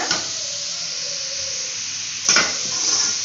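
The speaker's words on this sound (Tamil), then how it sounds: "அடுத்தது கொடை மிளகா சேர்த்துக்கங்க இப்போ இதெல்லாம் நல்லா வதக்கிக்கங்க" Capsicum and other vegetables sauté in a pan for hotel-style chicken rice, with a steady loud hiss of frying throughout and a short louder stir-and-scrape burst partway in, close up, with no one talking.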